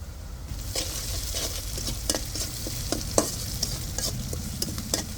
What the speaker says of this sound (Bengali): তো এই যে তেলের মধ্যে পেঁয়াজ দিয়ে দিয়েছি